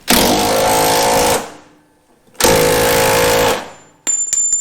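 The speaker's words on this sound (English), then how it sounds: "I'm just going to hit it with the impact to get it tightened up so it won't move." Impact wrench on a Chevy Nova subframe bolt fires two loud sustained rattling bursts of about a second and a half each, separated by a short pause, with a faint clank at the end.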